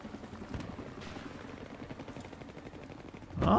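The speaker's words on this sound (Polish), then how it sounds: "Szkoda, że nie mam nic na śmigłowce, bo z, R z RPG G nie jestem w stanie trafić takiego śmigłowca." A Battlefield 3 helicopter churns overhead with a steady rhythmic rotor chop amid scattered gunfire, building to a louder burst at the end.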